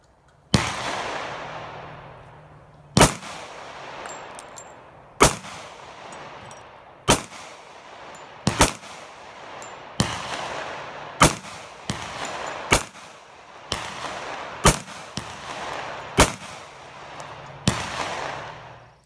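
Sig Sauer 1911 pistol firing reloaded brass cases, eleven sharp, loud single shots spaced roughly one to two seconds apart outdoors, each followed by a short decaying echo, with no talking.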